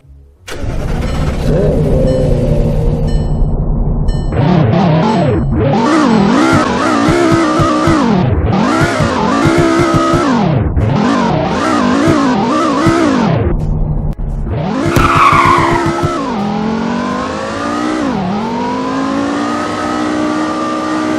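A 2006 Porsche Carrera GT in a racing video game: the engine starts, then revs hard in repeated rising and falling sweeps, ending in a sharp high-pitched tire screech under a steady engine drone, with no voices.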